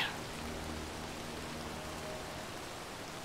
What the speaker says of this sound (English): Rainy freaking day.